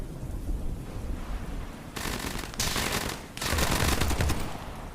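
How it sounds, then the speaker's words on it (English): Bursts of rapid video game gunfire start about two seconds in, with short pauses between volleys, fairly loud over a steady noisy background. "And gunshots are more quiet."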